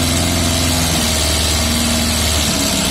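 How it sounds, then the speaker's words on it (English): A Yamaha Fazer FZS 600cc motorcycle engine idles steadily and loud nearby, with a slightly tappity mechanical rhythm over its low, even throb. "Engine does sound a little bit tappity"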